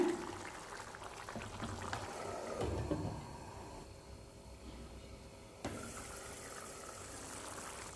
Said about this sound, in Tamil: குழம்பு நல்லா கொதிக்குது பாருங்கள்